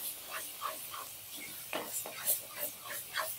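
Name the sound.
stirring bottle gourd paste into frying masala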